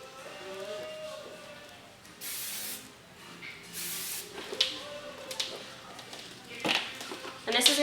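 Hairspray sprayed onto curled beach-wave hair in several short hissing bursts, some near and loud, with someone talking between them.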